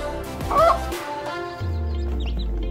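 A brooding hen clucks softly among her chicks, with close, low clucks and faint high chick peeps scattered through a brief stretch.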